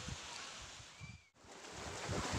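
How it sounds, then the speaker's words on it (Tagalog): Small waves wash faintly along the shore at Bantayan Beach in Looc, Occidental Mindoro, a soft, steady surf hiss mixed with wind buffeting the microphone. "Medyo ano nga lang dahil medyo maalon, may alon na maliliit."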